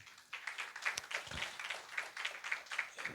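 A church congregation at a Sunday worship service claps hands, faint and somewhat distant, with a loose steady rhythm of many hands.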